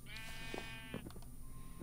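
Sheep bleat in Minecraft, two or three short wavering calls set against steady game background noise and music tones, with no talk.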